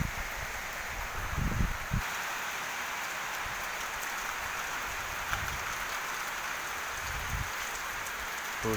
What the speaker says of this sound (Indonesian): Hujan disertai angin kencang.